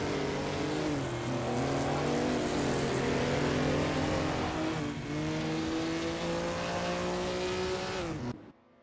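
Several 1950s Formula One cars race in a video game, their engines droning loudly and steadily with overlapping pitch shifts as they shift and pass, continuous before cutting off abruptly near the end.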